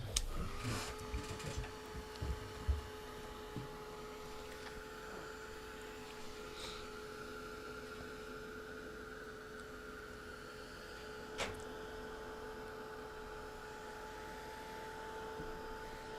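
A heat tool runs steadily for about sixteen seconds as a continuous whirring blower drone with a faint hum, drying freshly painted holly leaves and berries, with a few light handling knocks near the start.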